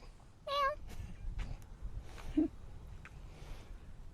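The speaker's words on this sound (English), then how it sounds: "Oh, and now there's a cat." A domestic cat meows once, clear and close, followed by a few quieter chirps and movement sounds in a calm outdoor garden setting.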